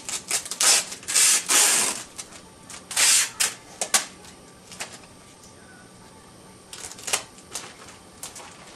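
Tape dispenser tearing and pulling tape, with repeated loud ripping screeches in bursts, some sticky crackling and pauses between pulls, close by.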